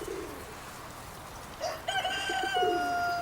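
Wyandotte and Dorking chickens cluck and crow against outdoor background noise, starting quietly and then growing into a steady, nearby chorus of calls.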